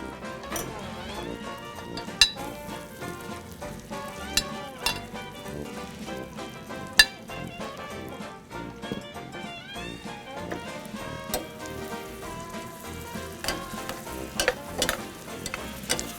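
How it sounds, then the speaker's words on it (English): Bananas sizzle in a hot pan while being tossed with sugar for bananas Foster, a steady frying hiss punctuated by scraping stirs and occasional utensil clinks against the pan. "tossing the bananas with the sugar so they all get coated"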